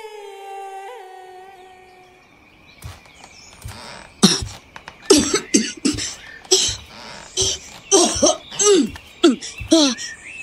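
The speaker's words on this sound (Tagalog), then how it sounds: "lumalala na po yung ubo ninyo eh." A woman coughs repeatedly from illness, a series of harsh, close coughing bursts that grow more frequent and intense toward the end, after a quiet start with a faint background tone.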